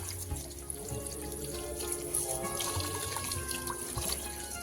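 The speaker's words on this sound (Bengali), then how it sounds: "ভালো করে গোড়াগুলো ধুয়ে নিয়ে যাই একবারে" Tap water runs steadily into a sink while the roots of large bunches of leafy greens are rinsed, a continuous close splashing stream with small drips and no talking.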